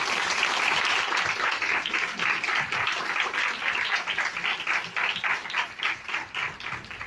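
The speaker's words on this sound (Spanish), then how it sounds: "un fuerte aplauso para el doctor" An audience at a talk on mushroom myths gives the doctor a sustained round of dense, steady clapping lasting about seven seconds.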